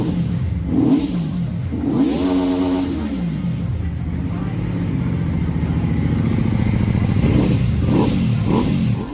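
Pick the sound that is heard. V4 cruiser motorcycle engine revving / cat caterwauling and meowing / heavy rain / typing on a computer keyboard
V4 cruiser motorcycle engine revving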